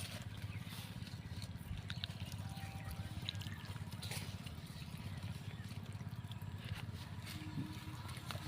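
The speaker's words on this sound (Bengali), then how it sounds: "পেঁয়াজগুলো আমরা একটু ধুয়ে নিচ্ছি।" Water runs softly and steadily from a tap while onions are rinsed, a faint continuous trickle with light splashes close by.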